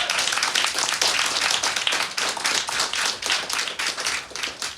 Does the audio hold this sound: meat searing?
no